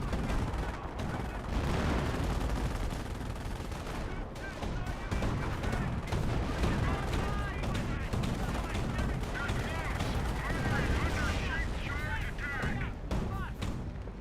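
Continuous battle din from Company of Heroes: dense gunfire, machine-gun bursts and heavy tank and artillery shots, including a Panzer hitting an M10 tank destroyer, with a commentator talking over the relentless, crowded combat noise.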